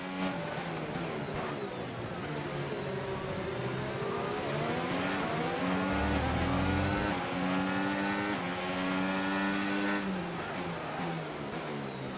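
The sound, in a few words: Formula 1 race car engine, from video game F1 25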